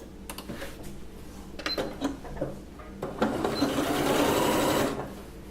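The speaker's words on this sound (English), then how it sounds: "We stitch all the way through down." A sewing machine stitches through the folded fabric of a wrap skirt. It runs loud and close in short bursts, then settles into one sustained whirring run of rapid stitching near the end, with no voices.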